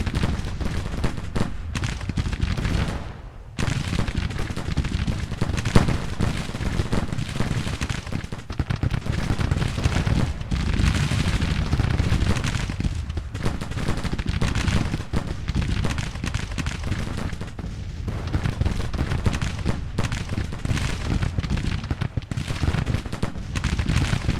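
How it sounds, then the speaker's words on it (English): Rifle volleys and artillery fire in the Civil War strategy game Grand Tactician: The Civil War, a dense, continuous barrage of overlapping gunshots and booming cannon blasts that barely pauses, loud and rumbling throughout. "Just keep firing, son. Keep up that fire."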